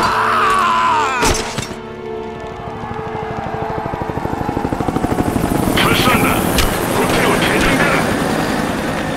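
A helicopter in the game Rise of the Tomb Raider drones loudly with a rapid rotor chop that builds and thickens over several seconds, joined by sharp crashing impacts near the start.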